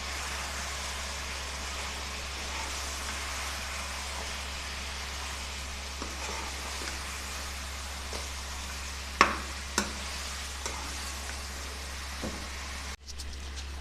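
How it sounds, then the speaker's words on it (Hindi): Dumba mutton fries with chaat masala, coriander powder and garam masala in a pot, giving a soft, steady sizzle with a few sharp clinks and scrapes from stirring. A low constant hum sits underneath. "अभी इसकी भुनाई करनी है हमने।"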